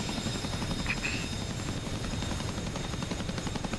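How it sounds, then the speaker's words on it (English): A Chinook helicopter lifts off in a flight simulator game, its heavy rotor thump and engine whine droning loudly and continuously throughout. "here is the Chinook taking off"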